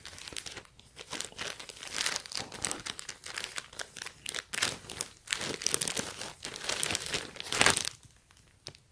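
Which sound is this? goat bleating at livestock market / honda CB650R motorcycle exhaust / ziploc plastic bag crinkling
ziploc plastic bag crinkling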